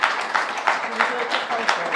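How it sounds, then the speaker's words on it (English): Scattered clapping from a small crowd at a Labour conference fringe meeting builds into steady applause, with uneven rhythmic claps continuing throughout. "I think we need a round of applause"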